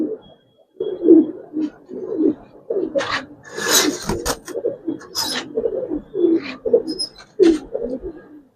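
Giribaz pigeons in a loft give repeated low throaty coos in a loose rhythm, close and clear, mixed with bursts of scratchy rustling and rasping from the birds moving about. No one speaks.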